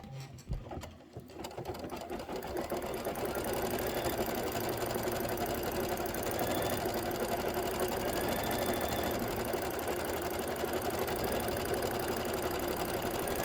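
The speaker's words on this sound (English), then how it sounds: "Stitch the base tack down trimming line." An embroidery sewing machine runs a base tack-down stitch line, a loud, steady rapid mechanical whir with fast rhythmic needle pulses that starts after a brief pause and carries on unbroken.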